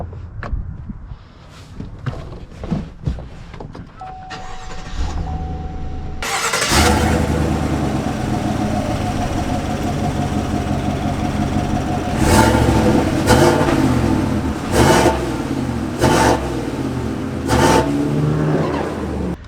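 A lifted Chevy Trail Boss pickup starts its engine and settles into a steady drone, with sharp clunks and clicks from the cabin, heard close from inside the truck.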